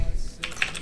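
Computer keyboard keys tapped in a short burst while code is written in the Godot engine, a few quick clicks standing out over low background noise.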